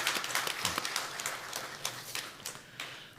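Scattered clapping from a church congregation during a Sunday worship service, fairly faint and uneven, individual claps standing out over a few seconds.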